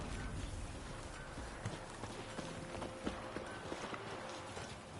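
A horse gallops in The Witcher 3, its hooves beating a steady, rhythmic clip-clop at moderate volume over a soft, continuous background bed.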